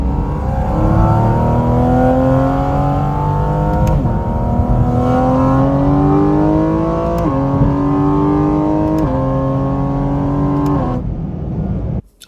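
A 2024 Porsche GT4 RS engine revving hard through its carbon airbox intake, loud rising howls climbing through repeated gear changes over twelve seconds, then cutting off abruptly.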